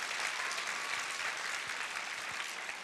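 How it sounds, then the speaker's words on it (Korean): A church congregation applauds during a Sunday evening service, filling the space with a steady, even wash of many hands clapping throughout. "우리 10대 청소년들에게 우리 박수 한번 해주십시오"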